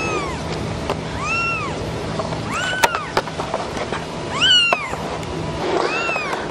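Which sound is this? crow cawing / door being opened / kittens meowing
kittens meowing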